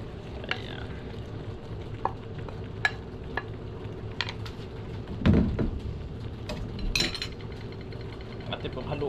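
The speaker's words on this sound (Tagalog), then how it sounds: "Atin pong haluin." Vegetables and pechay being stirred as they fry in a pan, with a soft sizzle under scattered clinks and scrapes of a utensil against the metal and one louder clatter midway.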